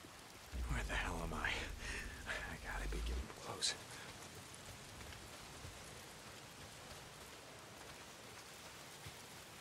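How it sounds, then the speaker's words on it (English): Soft, steady rain hisses throughout in the video game Days Gone, with a brief low rumble and some muffled voice-like sounds early on before the rain continues alone. "If it's not the freaks, it's the goddamn rain."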